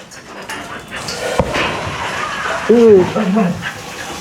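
A dog crying outdoors, a short, high, wavering whimper rising out of mixed background noise near the end, with softer whines around it.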